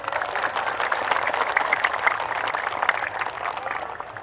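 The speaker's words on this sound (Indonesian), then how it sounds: "Tepuk tangan." Applause from an audience at a political speech by Kang Dedi Mulyadi in Cirebon, a steady dense clapping that fills the whole moment with no voices over it.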